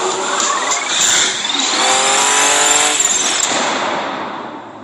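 A Ferrari Testarossa sports car drives fast and loud, its engine note rising and shifting through gears, with a whine sweeping upward over a steady road roar.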